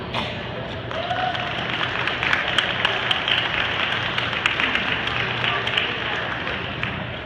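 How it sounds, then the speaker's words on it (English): An audience at an SFU Indigenous Day gathering applauds in a dense, steady wash of clapping that holds for several seconds at moderate loudness, with voices faintly beneath it. "You guys are welcome to applause."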